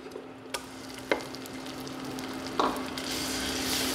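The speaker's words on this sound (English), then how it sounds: "You want a light sizzle, not too fast," Steady, gentle sizzling of laksa ingredients in a hot pot with a low hum, punctuated by a few sharp clinks and scrapes.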